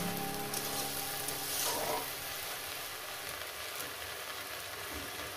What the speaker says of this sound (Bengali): এবার ভাজতে থাকবো।